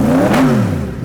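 A Yamaha MT-10 motorcycle fitted with a Yoshimura exhaust revs loudly up close, a single swelling blip that holds steady and eases off.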